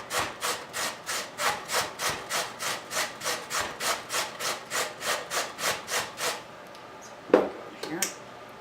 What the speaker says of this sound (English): So we'll need 1 cup of grated carrot